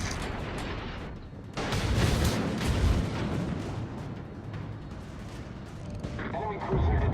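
Naval gunfire in World of Warships from a Tier X Montana battleship in a random battle: loud booming salvos and rumbling blasts over a continuous roar, with game voice callouts mixed in.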